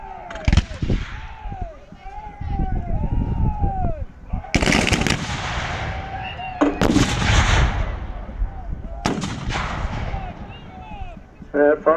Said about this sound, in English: The Union have now started to open fire.